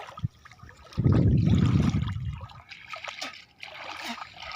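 Warm water from the Subarnarekha river trickles and splashes, with a loud, dense burst of flowing water in the middle followed by quieter dribbling.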